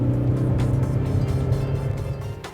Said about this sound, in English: when you put your foot down in this car, it makes this annoying groaning sound